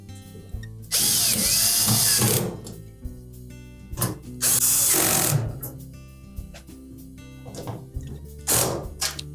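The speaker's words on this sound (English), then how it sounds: "Now we'll put the remainder of those screws in place." A power drill drives screws into a Samsung dryer while its drum support roller and axle are replaced: several loud, whining bursts of a few seconds each, close by, with quieter pauses between.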